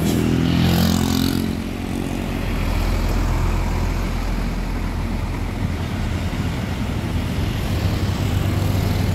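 A Mitsubishi Canter Colt Diesel truck climbs the steep Kedabuhan hill in Aceh with its diesel engine droning loudly and steadily. A throaty rumble swells early on, then settles into a constant laboring roar.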